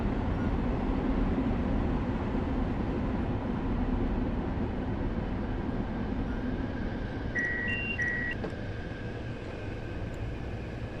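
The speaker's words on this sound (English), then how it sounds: "You can still hear the other trains in the other tunnels." Long Island Rail Road train running through a tunnel in Train Sim World 4, a steady loud broadband rumble and roar throughout, with a brief tonal chime or beep near the end.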